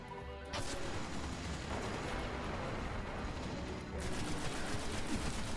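Auto rifle fire in the shooter game Destiny, with a long unbroken stretch of gunfire and blasts that stays quiet and distant and never pauses across the whole span.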